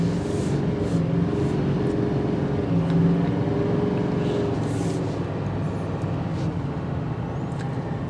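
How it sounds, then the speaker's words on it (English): A 2023 GMC Sierra 2500HD AT4 diesel turbo truck accelerates, heard from inside as a loud, steady engine drone and low rumble with faint whining tones, continuous throughout. "You get the turbo sound that comes in"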